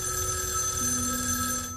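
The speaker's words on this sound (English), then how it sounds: "Do I answer the phone?" A telephone rings with a bright electronic bell tone, sounding steadily and fairly loud, alone without voices.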